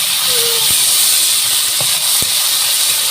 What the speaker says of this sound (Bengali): একটা মিডিয়াম সাইজের পেঁয়াজ আমি দিয়ে দিলাম পেঁয়াজটাকে একটু হালকা বাদামি করে নেবো